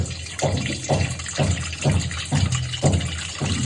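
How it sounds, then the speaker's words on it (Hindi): Water pours into a household dough kneading machine in a kitchen, a steady gushing fill with a pulsing rhythm, close and fairly loud with no talk. "ये देखिए, सबसे पहले पानी भरती हूँ, मैं से पानी भरती हूँ।"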